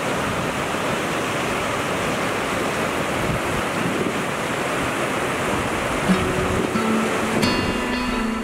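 River rapids on an unnamed river in Labrador roar as a dense, constant wash of rushing water, loud and steady throughout, with faint wind and no voices.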